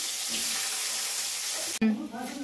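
Cut mangoes going into a frying pan for chutney, a steady loud sizzle that breaks off abruptly, followed by softer bubbling and faint voice-like sounds.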